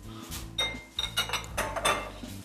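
A custard is mixed with dairy in a bowl for bread pudding, giving close clinks and scrapes of a utensil against the dish in a short, irregular burst.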